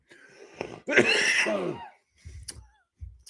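A person clears their throat harshly, followed by a short cough and a few faint breathy sounds in a quiet room.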